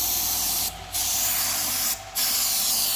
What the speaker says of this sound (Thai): เดี๋ยวผมจะให้ เจ้าที่ฉีดน้ำยาทิ้งไว้ก่อน